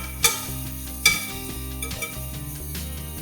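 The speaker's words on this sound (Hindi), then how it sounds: "अब हम प्याज़ों और लहसुन अदरक के पेस्ट को थोड़ी देर और फ्राई करेंगे इसके साथ ही" Onions with garlic-ginger paste frying and being stirred in a pan for an aloo keema dish, a steady close sizzle with a few sharp spatula clanks against the metal, no voices.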